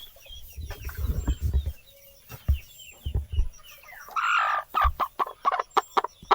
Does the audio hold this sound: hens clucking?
yes